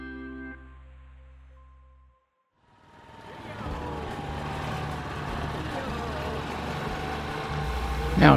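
A dune buggy engine drones steadily while driving along a road in Bora Bora in the South Pacific. Wind and road noise join the low, continuous hum, which grows louder after a brief quiet gap.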